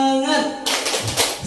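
A voice leads a short chant, then a group of teachers at an Indonesian school training session breaks into a rhythmic 'tepuk semangat' clapping pattern, loud and close, with a few sharp accented claps.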